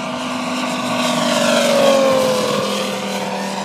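A glow nitro RC airplane engine runs nearby with a loud, buzzing whine that rises and falls in pitch and swells to a peak midway before easing slightly.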